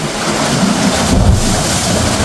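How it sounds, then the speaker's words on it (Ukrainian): Sea water surging and sloshing inside a narrow crack in shoreline rock on a British Columbia island, a steady close rushing wash with a heavier swell midway and wind buffeting the microphone. "І вода так бемкає."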